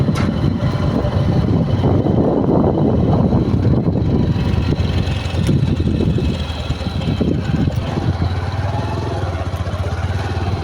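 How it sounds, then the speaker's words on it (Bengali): A ship's engine drones as the vessel leaves Mongla toward Bagerhat, a loud continuous low rumble with a slight dip partway through, with no speech audible. "মোংলা থেকে জাহাজ চলে যাচ্ছে বাগেরহাটের উদ্দেশ্যে।"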